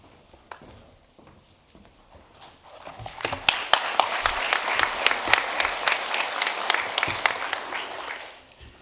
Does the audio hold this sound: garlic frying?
no